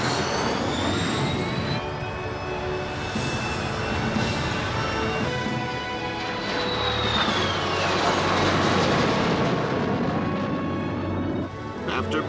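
An Avro Arrow jet roars loud and continuous, its engine whine rising as the afterburner lights, while a voice talks over the noise.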